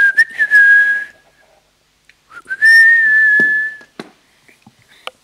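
A person whistles an imitation of Louie's whistle from the game Pikmin 2: two long, rising sustained whistled tones separated by a pause, close and clear, with a few small clicks and handling noises between them.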